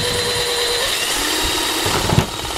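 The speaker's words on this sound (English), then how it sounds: "I've drilled the ball off all of its side" A power drill bores into a tennis ball, giving a steady high-pitched whirring buzz that runs throughout with a brief louder burst near the end.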